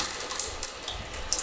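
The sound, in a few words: tap water running to rinse film reels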